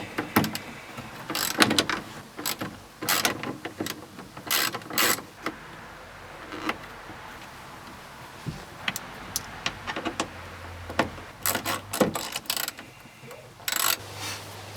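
A ratchet wrench clicks in short, irregular bursts while working on 10mm bolts of a BMW E36 wing mirror, close by, with pauses and light handling noises between.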